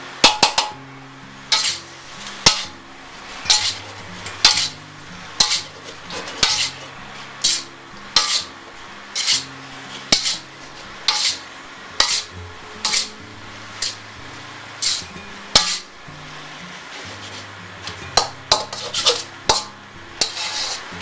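Singapore rice noodles with vegetables are stir-fried in a pan, a regular series of scraping, clinking strokes about once a second over a soft sizzle, close and without voices.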